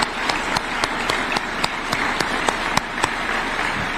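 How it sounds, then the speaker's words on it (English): An audience at a State House event in Kenya applauds, with a few sharp, regularly spaced claps standing out above a soft, diffuse background of clapping and room noise. "Can we clap for Rose, please, if she's there"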